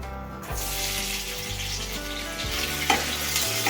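Onion hits a hot pan and sizzles loudly and steadily, close up, with a few clinks and stirring scrapes over the continuous frying hiss.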